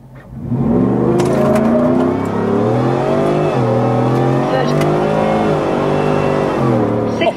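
A Ford F-150 pickup engine revs hard and roars close by, pitch climbing and dipping as it launches on brake boost in four-high with traction control off, loud throughout with no talking.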